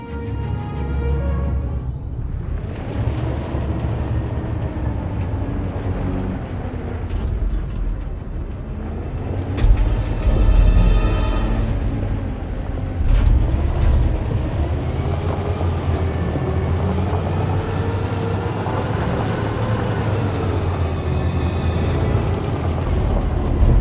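A truck in the game Detroit: Become Human rolling along with a loud, continuous engine roar and rumbling low end, rising and falling gear-like whines and a hissing, airy layer throughout.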